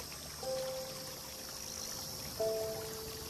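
In the video game Nostalgic Train, a river flows with wind over it, forming a steady hiss and rush heard from a distance, while faint tonal whines rise briefly over it twice.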